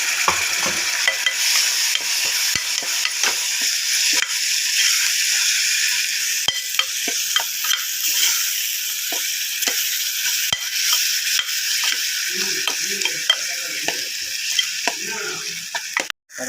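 Steady sizzling of onions frying in a pan, with intermittent scraping clicks of a spoon stirring, close up.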